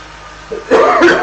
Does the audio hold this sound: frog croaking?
no